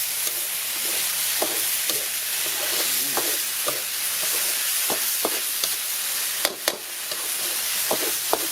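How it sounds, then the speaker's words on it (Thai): Korat-style rice noodles stir-fried dry in a wok with holy basil at a roadside restaurant, a steady sizzling hiss broken by repeated sharp scrapes and clanks of the spatula against the pan. "เดี๋ยวเขาจะผัดแบบแห้งเลยนะครับ"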